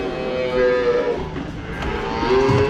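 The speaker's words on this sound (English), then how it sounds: "So now I have come to my white bucket calves." Several white bucket-fed calves moo close by, a couple of loud drawn-out calls with short gaps between them, and no one speaks.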